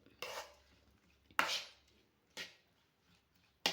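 Omelette egg mixture with green chili stirred in a kitchen bowl: four short, close scraping and clinking strokes spaced apart, with quiet gaps between them and no talking.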